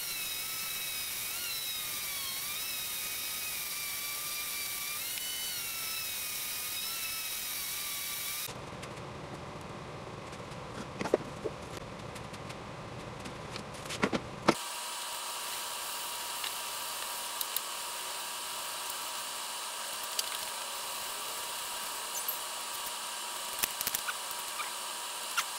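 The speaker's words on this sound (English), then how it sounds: "I'm going to be flying through this sanding." Power sanding of a hickory and walnut bedside lamp with resin portions: a steady, high-pitched electric whine that runs continuously and changes tone abruptly across several cut-together passes, with small scraping ticks and no talking.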